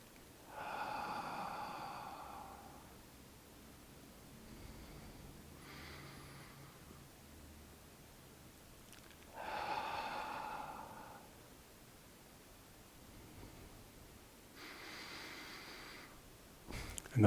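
Slow, deep breaths during a qigong routine, about six a minute, come as soft, airy inhales and exhales spaced several seconds apart, quiet and close with long pauses between them.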